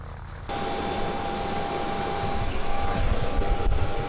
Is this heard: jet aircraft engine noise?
yes